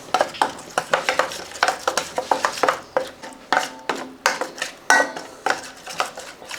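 Fish gravy ingredients with coconut oil and pepper being mixed in a pan, heard as a rapid series of close, sharp utensil clatters and scrapes against the pot in an uneven rhythm, with no talking.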